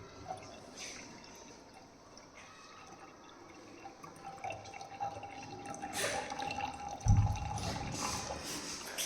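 Water slowly poured into a decantation tank for purification, a soft trickling and dripping that builds gradually, close by and fairly quiet, with a brief heavier splash near the end.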